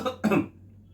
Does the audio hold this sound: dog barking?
no